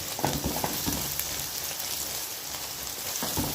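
Onions fry and sizzle in a pan for paneer bhurji, a steady close crackling hiss with a few stirring knocks, and no talk.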